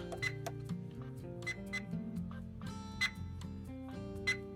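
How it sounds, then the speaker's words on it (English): A busy electronic ambience of beeps and chirps over a steady low hum, the bridge sound effect of a Playmates Star Trek USS Enterprise D toy, with a few sharper tones standing out. "That's bridge sound."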